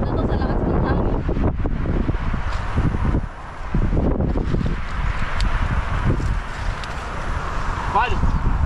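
Strong typhoon wind buffets the microphone in a rough, continuous low roar during a windy garden harvest, with people talking over it throughout.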